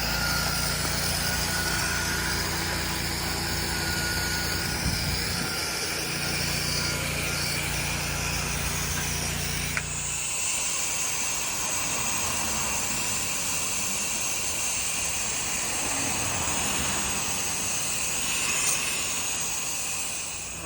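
A pressure washer fed by 200 feet of line sprays solar panels, a steady loud engine drone with hissing water spray that continues without break, shifting in tone partway through.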